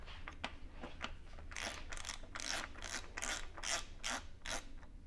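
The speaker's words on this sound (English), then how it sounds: "Using that tool that I have on my ratchet." A socket ratchet tightens a square taper bottom bracket on a bicycle, giving a series of rapid clicking pawl bursts in repeated strokes. It sounds close and fairly clear against a low background hum.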